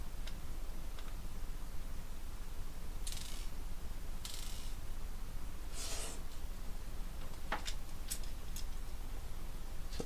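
Screwdriver turning screws on a C64 Mini, faint close clicking and ticking with a few scraping bursts over a quiet background hiss.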